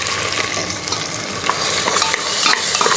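Ginger and garlic paste sizzle in rendered fat with pieces of meat as they are stirred in a pan, a loud dense continuous frying hiss with steady scraping close up.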